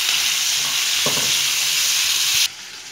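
Capsicum, onion and tomato sauté in a hot kadai with a steady loud sizzle and a brief stir or scrape near the middle, cutting off abruptly near the end; no talking.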